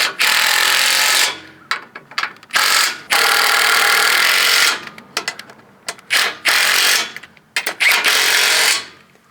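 A power tool, likely an impact driver, runs bolts into a winch plate on a 2023+ Canyon in loud, repeated bursts of whirring and rattling with short pauses between.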